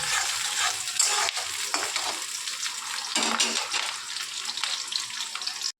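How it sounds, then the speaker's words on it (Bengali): Onions sizzle in hot oil in a pan while being stirred, a steady frying hiss broken by scraping strokes, close up with no voices. "পেঁয়াজটাকে লাল লাল করে একটু ভাজা ভাজা করে নেব"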